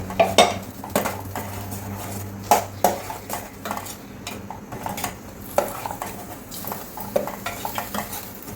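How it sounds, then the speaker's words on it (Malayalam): A utensil stirs ground paste into cooked cucumber in a metal pot, making repeated clinks and scrapes against the sides over a faint low sizzle, with no talking. "ഇനി നമുക്ക് ഈ അരപ്പിട്ട് വെക്കാം."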